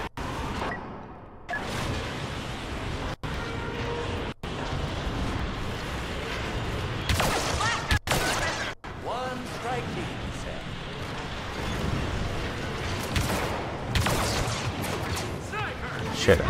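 Disabler weapon fire in Star Wars Battlefront 2 mixes with a dense, continuous battle soundscape of rapid gunfire and blasts, loud throughout with a few brief cutouts and game voices scattered beneath.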